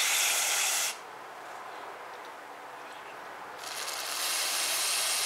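Carb cleaner sprays in two short hissing bursts onto the PCV valve of a 2008 Toyota RAV4 2.4L 2AZ-FE engine, close and crisp with a quiet pause between them.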